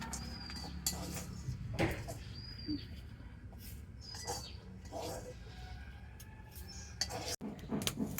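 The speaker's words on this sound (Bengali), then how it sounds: "আর এইভাবে করে আমি এখন সমস্ত ছোলাগুলো ভেজে নেব।" Chickpeas dry-frying in salt in a pan, stirred with a utensil that scrapes and clinks against the metal in irregular strokes, quiet and close, with faint birdsong chirping in the background.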